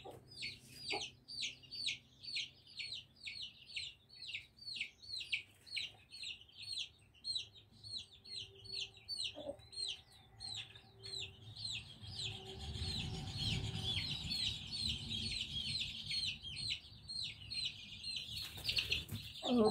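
A hen with her chicks climbing onto a perch gives a steady run of soft, rhythmic clucks and high chick peeps throughout, moderately close, with rustling and a louder burst of movement near the end.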